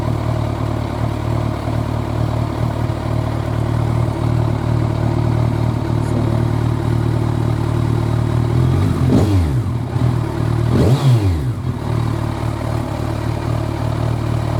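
Kawasaki Ninja 1000ABS motorcycle with a modified stock exhaust, its engine running at a steady, loud idle close by with a constant drone, broken by a couple of brief rising-and-falling swells.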